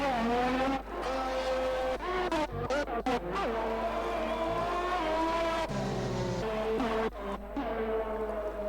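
Race car on a hot lap in the F1 2020 video game: a loud, continuous high-revving engine whine rising and dropping through quick gear shifts and braking, with short tire squeals through the corners, steady and close throughout.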